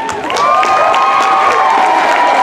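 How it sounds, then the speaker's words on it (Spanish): Crowd at a dance competition event cheers and shouts, a loud, continuous roar with whistles and high-pitched voices throughout. "Fuerte el aplauso para Damián Pastrana."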